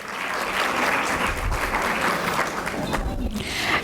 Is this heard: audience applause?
yes